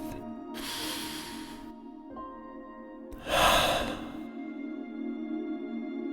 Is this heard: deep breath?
yes